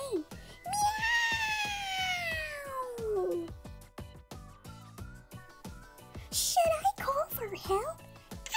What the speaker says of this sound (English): Arya the cat screamed in pain.